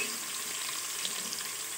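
Onions frying slowly in a pan give a steady, even sizzle with a soft crackle throughout, with no talk over it.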